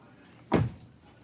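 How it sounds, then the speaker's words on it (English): A single dull thud of a car door shutting nearby, brief and solid, with quiet background before and after. "Still sounds like a car door."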